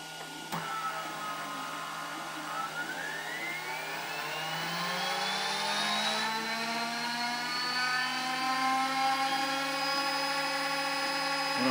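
A brushless electric starter motor for a small gas turbine, run by a motor controller and power supply, spins up from rest with a steadily rising whine and layered harmonics. It holds at a moderate speed, loud, close and continuous, with no talk.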